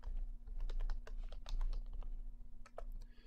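A computer keyboard rattles under rapid, close typing as an npm install command is entered, a dense run of sharp clicks over a steady low hum, with no voice.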